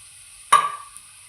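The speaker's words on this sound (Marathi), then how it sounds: "त्याच्यामध्ये मी आता गाजर टाकते." Carrots drop into a hot pan with a single short sizzling burst that fades over a moment, followed by quiet, for paneer momos.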